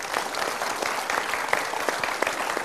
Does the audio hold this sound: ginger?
no